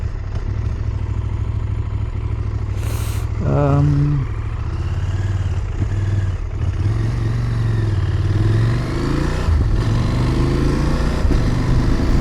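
A CFMOTO 1000 MTX motorcycle engine pulls steadily while riding, with a rising rev sweep and quick quickshifter gear changes breaking the drone, under continuous wind roar; a voice briefly comes through.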